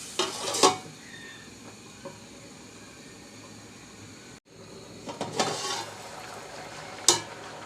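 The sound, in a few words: tomato added to frying tilapia and potato curry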